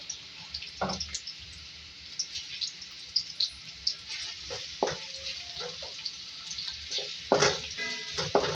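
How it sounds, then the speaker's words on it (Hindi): Two medium onions fry over a low flame in mustard oil, a soft continuous crackle broken by sporadic louder pops and spatters, close and fairly quiet with no talk. "इसमें 2 मीडियम साइज़ की प्याज ऐड, इसको फ्राई करेंगे"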